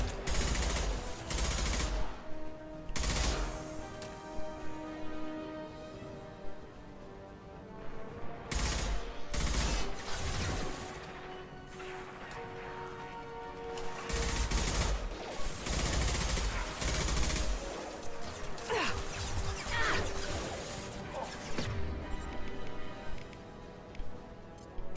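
Concussive shots and bursts of gunfire ring out in a Mass Effect 2 firefight, loud rapid volleys separated by short pauses and mixed with mechanical clatter and a steady underlying hum.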